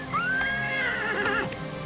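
A horse in the video game Oblivion Remastered lets out a long, high whinny that wavers and fades, loud and close, with a faint clatter underneath.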